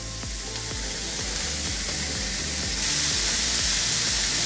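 Steady loud sizzling hiss from burgers on a hot grill, broadband and continuous, growing slightly stronger toward the end, with no talking.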